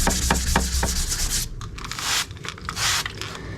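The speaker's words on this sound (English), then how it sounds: "you can see still kind of sanding at an angle here." A sanding block rubs wet over urethane high-build primer on a 1965 Ford Mustang body, with quick rhythmic scraping strokes at first, then longer, broader swipes, close and clear with no talking.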